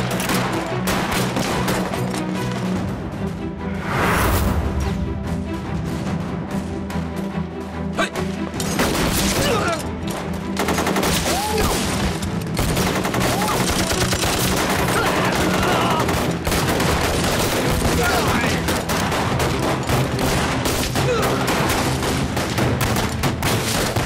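Dense gunfire crackles and booms through a battle scene in a film about the War of Resistance against Japan, with rapid overlapping shots, bursts and heavier blasts, loud and continuous throughout.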